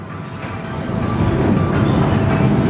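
The Mandrill roller coaster train at Chessington World of Adventures runs along its track, a rumbling roar that builds in loudness and then holds steady, heard from nearby outdoors.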